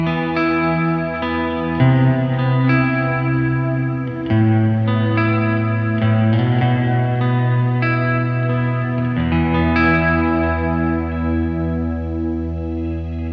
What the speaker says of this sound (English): come out of the amp and go into the Walrus ACS1 Mark II. That's a stereo amp simulator,